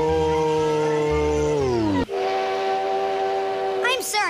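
A train whistle blows in a long, loud sustained tone that bends downward in pitch partway through, then holds steady, with a brief higher burst near the end.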